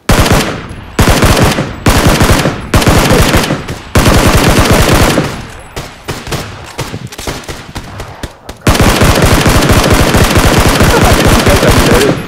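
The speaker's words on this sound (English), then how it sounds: "Oh my god, I have a Tommy gun." Sustained bursts of Tommy gun fire in a video game, loud rapid automatic volleys in repeated strings with short gaps, ending in a long continuous burst.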